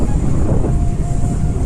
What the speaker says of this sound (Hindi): बहुत हवा चल रही है,